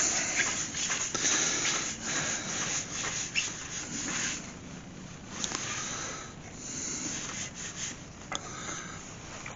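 Sandpaper rubs against a wood-turned wooden woodpecker, a continuous close scratchy rasping that rises and eases in uneven strokes, with a sharp knock at the very end.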